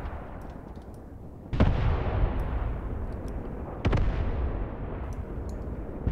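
Two heavy tank cannon blasts in the Graviteam Tactics Mius battlefield, each a sharp boom with a long rumbling tail, spaced a couple of seconds apart over a constant low background roar.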